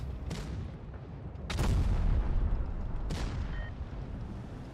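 Tank cannon shells firing and striking in the online tank battle game WoT Blitz, a few sharp booming reports spaced apart over a low rumbling battlefield din, fairly close and loud.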